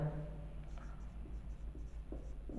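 Chalk or a marker scratches on a board during a science class lesson, making faint, short irregular strokes over a low background hum while a teacher talks.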